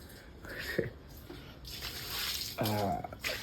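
Water runs and splashes at a sink while clothes and tea cups are rinsed, in fairly quiet intermittent gushes and clinks, with a brief voice in the background.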